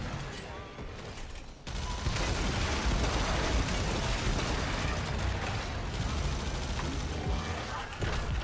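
An arc gun fires in the video game Warframe, a loud, dense, continuous crackling barrage that kicks in abruptly after a short lull and keeps roaring with little break.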